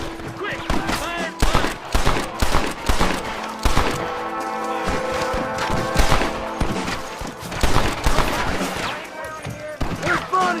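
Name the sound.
gunfire in Red Dead Redemption video game shootout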